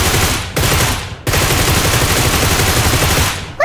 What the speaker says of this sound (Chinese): 有枪声，过去瞅瞅。